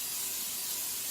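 Pam cooking spray spritzed into an Instant Pot, a steady close hiss lasting just over a second.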